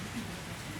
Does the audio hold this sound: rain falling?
yes